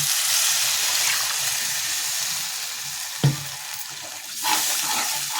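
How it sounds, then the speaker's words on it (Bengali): A hot pan of frying fish hisses steadily, and water poured in brings a sudden sharp splash and surge of sizzling, then a second smaller surge, all close and loud. "এবার দেবো জল, দিয়ে দেবো জল।"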